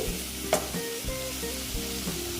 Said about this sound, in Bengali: দেখুন মশলাটা প্রায় কষানো হয়ে গেছে